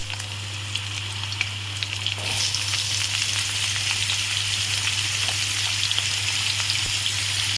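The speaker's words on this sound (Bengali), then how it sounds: "আমার আলুটা ভাজা হচ্ছে" Steady, close sizzling of potatoes frying in hot oil with black cumin, a dense crackling hiss that grows louder after a couple of seconds and continues without talk.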